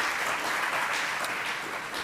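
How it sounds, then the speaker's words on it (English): Steady audience applause fills a keynote presentation hall, a dense even wash of many hands clapping at once, held at full strength for the whole stretch with no voices over it. "I just thought we could do a round of applause for AltFi and all the great work they do"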